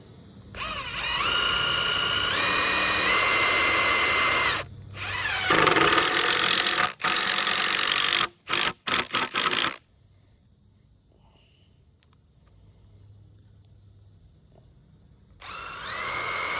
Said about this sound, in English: Just drill them in.